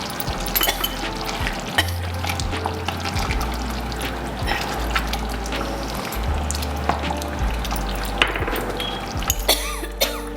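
Raw tomato, garlic and ginger pickle is stirred in a pan after ground mustard seed is added, giving a steady sizzle with scraping stir strokes and a low hum beneath.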